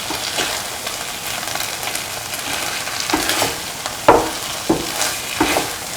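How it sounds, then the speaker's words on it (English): Eggs scrambled with vermicelli in a frying pan give a steady close sizzle, broken by several sharp scrapes and clanks of a utensil stirring and mixing, with no voices. "Scrambled eggs and mix with the vermicelli and the rest of the mixture."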